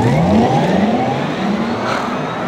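A 2021 Porsche Taycan electric car launches hard on a race track, its motor letting out a loud, steady, rising whine over heavy road and wind roar throughout.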